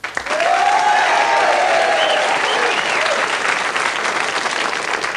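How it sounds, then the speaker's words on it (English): A 1987 television game show studio audience applauds a contestant, dense sustained clapping, loud and even, with a voice briefly heard over the start. "let's give a big round of applause to Elizabeth Moore."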